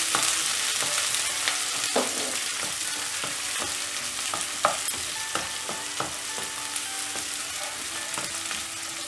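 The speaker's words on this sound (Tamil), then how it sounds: "வெங்காயம் ஆட் பண்ணிவிட்டு நல்லா வதக்கி விட்டுடலாம்" Onions sautéing in a pan with crackling mustard seeds and urad dal, a steady close sizzle broken by repeated light scrapes and taps of a stirring spoon, no voices.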